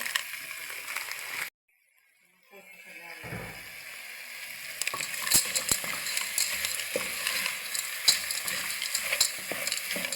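Spiral macaroni sopas stirred in a pot, a sizzling, bubbling hiss with scraping spoon strokes that returns after a brief silence and continues steadily up close.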